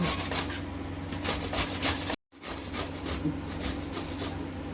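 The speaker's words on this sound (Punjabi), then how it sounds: "ਹੁਣ ਇਹਨੂੰ ਕੱਦੂਕਸ ਕਰਾਂਗੇ ਇਹ ਕੱਦੂਕਸ ਕਰ ਲਾਂਗੇ ਆਪਾਂ ਸਾਰੀ" Bottle gourd is rubbed against a hand grater for barfi, making repeated rasping strokes in a quick, even rhythm, close and clear, with a brief silent gap partway through.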